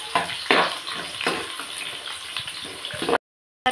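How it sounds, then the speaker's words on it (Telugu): Onion pieces fry in a pan for a curd chicken curry, giving a steady close sizzle with a few louder stirring scrapes and bursts, then a sudden cutoff into silence. "ఇవి కొంచెం బ్రౌనిష్ కలర్ లాగా వచ్చేలాగా ఫ్రై చేసుకోవాలి"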